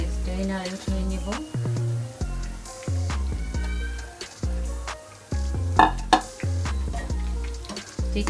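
Chicken pieces frying in hot oil for sweet and spicy garlic chicken, a steady loud sizzle broken by stirring clatter and scraping against the pan, with music playing over it.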